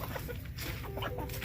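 Backyard hens and a rooster cluck close by as they are fed on a small farm, with busy overlapping clucks and faint crowing in the background.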